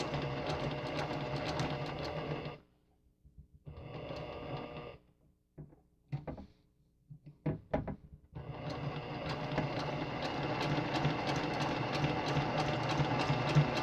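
A sewing machine stitches through three layers of a cross stitch pillow in long steady runs, stopping briefly for a few short bursts in the middle before running continuously again, with no talking.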